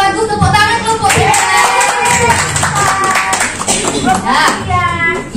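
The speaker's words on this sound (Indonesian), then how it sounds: "Tepuk tangan kelompok 3" Lively clapping for group 3 in a classroom training session, a few rhythmic hand claps mixed with loud, excited voices of children and adults talking and calling out over it.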